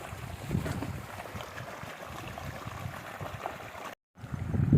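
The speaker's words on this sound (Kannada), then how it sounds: "ಎಷ್ಟು ನೀರು ಹರಿತೈತೆ ನೋಡಿ" Floodwater flows through a waterlogged maize field outdoors, a steady rushing murmur mixed with gusty wind noise on the microphone, briefly cutting out before returning louder.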